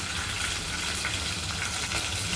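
Mustard seeds, curry leaves and ginger-garlic paste sizzling in hot oil as a tempering for cabbage sabzi, making a dense, steady, close frying hiss without speech.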